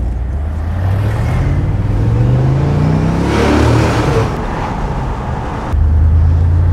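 A 2003 BMW Z8 roadster with only 22,700 km, in as-new condition, driving on a road test; its engine revs climb steadily and loudly, dip, then rise again, with no talk over it.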